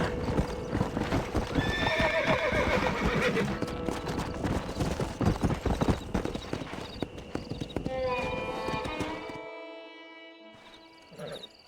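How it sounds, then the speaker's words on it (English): Horse hooves clip-clop steadily at close range in Red Dead Redemption, with a horse whinnying partway through before the hoofbeats fade and quiet tones linger. "why don't you keep that stallion as your own"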